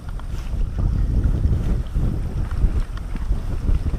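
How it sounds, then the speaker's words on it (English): Strong wind buffets the microphone with steady low rumbling gusts on a lake during kayak fishing, with no talking. "This wind is insane"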